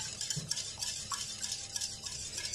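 Cake batter for a simple leftover-bread cake being stirred in a bowl, giving soft, rhythmic wet scraping and swishing strokes close by, quiet and without speech.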